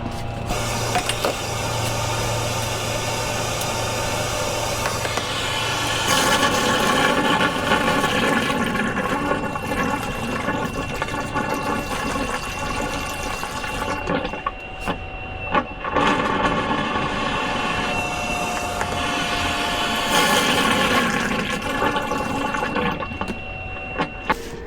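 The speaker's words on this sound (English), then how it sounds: "With the shop vac running and pouring water down" A shop vac runs with a loud, steady roar while a gallon jug of water is poured through a funnel down a clogged AC drain line, gurgling and rushing water surging and fading over the motor.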